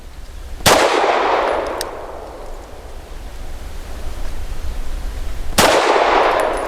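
Two sharp gunshots from a SAR USA P8L pistol at a steel target range, spaced about five seconds apart, each a loud crack with a long, decaying ring, over steady outdoor background noise.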